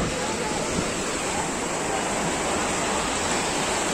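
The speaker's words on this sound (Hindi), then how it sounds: "यही वो जो जल की धारा है जो हर की पैड़ी से आ रही है ब्रह्मकुंड से" Fast-flowing river water at Har Ki Pauri in Haridwar, swollen by heavy rain, rushes in a loud, dense, continuous roar close by.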